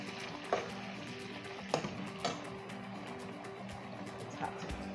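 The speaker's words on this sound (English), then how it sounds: "Give it a stir." Curry chicken wings stirred in a hot pot, a steady low sizzle with a few soft scrapes and knocks of the spoon, close and moderately quiet, no talking.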